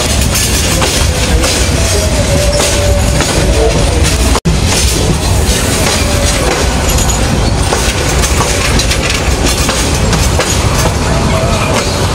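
Passenger train rolling into Noapara railway station in Bangladesh, heard from on board as a loud, steady rumble with rhythmic clickety-clack of wheels over rail joints, unbroken and close.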